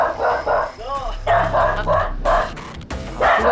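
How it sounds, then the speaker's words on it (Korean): A mixed-breed dog barks at a visitor in a home, with sharp, loud, close barks in quick bursts and a brief whine in between, while people talk over the noise. "변호사님한테는 좀 안 짖을 줄 알았는데"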